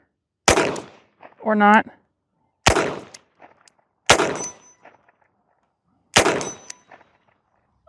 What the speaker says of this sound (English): Let me try one more shot there so I know my hold